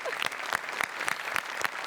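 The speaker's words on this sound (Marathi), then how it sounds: "एकदा आपल्या जुजबीसाठी जोरदार टाळ्या" An audience on a Marathi comedy show stage bursts into steady, enthusiastic applause. The clapping is dense and continuous, with a faint crowd murmur underneath.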